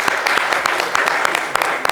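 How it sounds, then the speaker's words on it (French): An audience claps for a guest on a live talk show, producing a quick patter of distinct, sharp claps at moderate loudness with a faint background of voices. "Applaudissements pour monsieur Twagui, s'il vous plaît."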